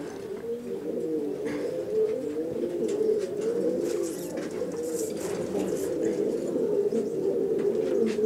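Pigeons coo in a loft, a continuous overlapping murmur of low throaty calls from several birds, close and steady, with faint flutters and small knocks in the background.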